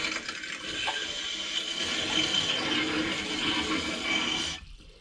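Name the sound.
water running from bathroom sink faucet in RV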